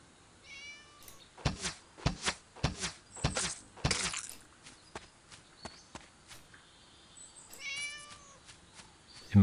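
A cat in the video game Divine Divinity gives several meows at the start and end, with quick rhythmic footstep thuds in between, all fairly close and clear, with no talking.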